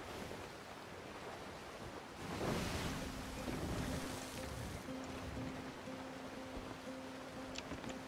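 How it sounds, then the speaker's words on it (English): A sailing ship crosses open sea in Sea of Thieves, a steady wash of waves and wind rushing around it with a low hum beneath, the water surging louder for a moment partway through before settling back. "I'm just having fun sailing the ship to my favorite place"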